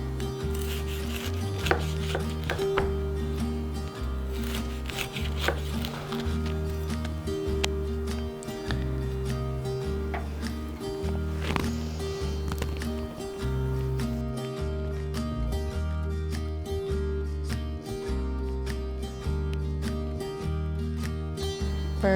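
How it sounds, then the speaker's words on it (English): A knife slicing through a freshly baked banana bread with nuts, repeated soft rhythmic cuts and board taps over a steady low background, no talking. "Now we're just gonna slice it up and give it a try."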